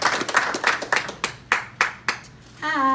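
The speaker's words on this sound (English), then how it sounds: "And a big round of applause" Applause from a boxing event crowd welcoming an Olympic gold medalist and unified world champion, first dense clapping that thins to a few separate claps, then a voice cuts in at the end.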